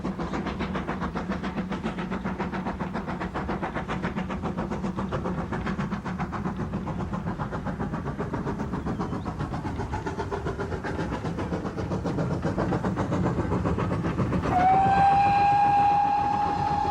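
A steam locomotive on the Gloucestershire Warwickshire Railway chugs past with steady rhythmic rumbling and clanking, ending in a sustained whistle blast near the close.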